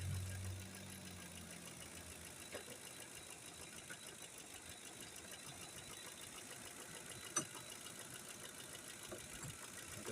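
Lincoln 5.4 engine idling while being checked for a fault, a quiet, steady close-up hum with light ticking and one brief click partway through, and no voices.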